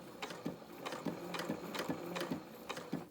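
Sewing machine stitching fabric for a vinyl-fronted project bag, running slowly in short bursts with a rhythmic, regularly pulsing needle clatter, close and alone.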